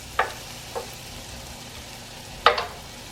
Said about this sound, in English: next we're going to put in that other 2/3 of a stick of butter into the onions that are still in the pan